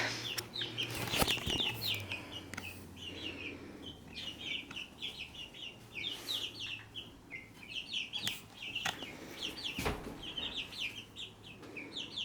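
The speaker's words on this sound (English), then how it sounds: "Here's our little laying hens." Laying hens in a small sunny backyard chicken coop, giving soft scattered clucks and chirps through the whole stretch, with a few brief flaps and bumps nearby.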